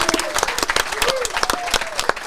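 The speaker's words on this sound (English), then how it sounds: "So let's give them a round of applause here in Globus." An audience applauding at a live show in the Lakeview Arts Barn theater in Bobcaygeon, scattered brisk clapping with some cheering and voices mixed in, close and fairly loud over about two seconds.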